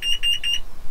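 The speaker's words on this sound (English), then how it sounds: "Beeps." Three quick pairs of loud, high-pitched electronic beeps sound in an even rhythm, close and clear.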